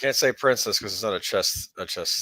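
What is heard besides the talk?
No everyday noise stands out behind the speech.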